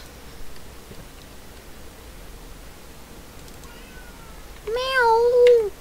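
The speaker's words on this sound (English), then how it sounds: "My cat is screaming." A pet cat gives a loud, drawn-out meow near the end, rising and falling, after a few seconds of faint room noise and quieter mewing.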